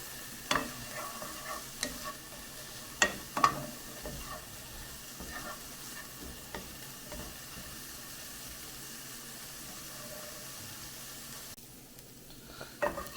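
Onions sautéing in a pan for oil-free vegan black bean soup, a quiet steady sizzle and hiss with several sharp clicks and scrapes of stirring, close and alone without any talk.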